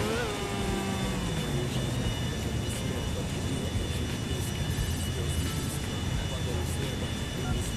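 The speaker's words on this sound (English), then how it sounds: "I'm dangerously close to this airplane." Airplane engine roar close by in the video game GTA IV, a dense continuous rumble with a rising whine, steady and loud throughout, game effects layered over it.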